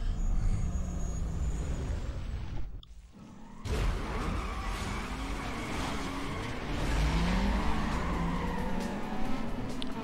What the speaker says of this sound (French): là vraiment les courses de bagnole usine, ça craint